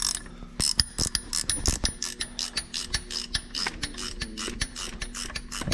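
A ratchet wrench clicks steadily as it turns a bolt to split the clutch on a John Deere 8345R tractor, close and loud, with sharp regular pawl clicks and metallic mechanism sounds.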